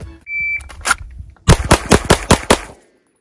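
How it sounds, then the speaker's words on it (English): A rapid string of about eight pistol shots from a Canik SFX Rival fired at a range, sharp and loud, fired in quick succession after a brief electronic beep, with the last shot trailing off into silence. "Ooh, those shots were horrible."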